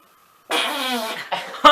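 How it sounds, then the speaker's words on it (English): A loud, close fart: one drawn-out, buzzing rasp followed by a couple of short, sharp bursts. "You farted again."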